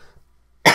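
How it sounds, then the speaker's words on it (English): A single short, sharp cough right at the end, following near silence and a brief faint breath. "I'm trying to hold it and cough"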